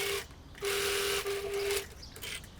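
A sewing machine runs in two short bursts, stitching the center back seam of a cotton summer top, its steady motor hum quiet and close with a brief pause between runs.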